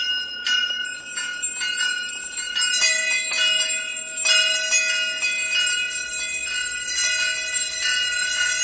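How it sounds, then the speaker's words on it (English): Many house bells ringing together in a dramatised Christmas Carol reading: a dense, steady clangor of bright, overlapping metallic tones that sustain and shimmer throughout, with no voices. "and so did every bell in the house"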